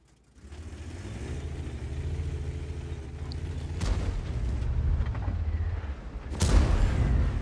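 Tank cannon fire in a tank battle game, an engine rumble building under distant booms, then a loud sharp cannon shot near the end with a rolling tail.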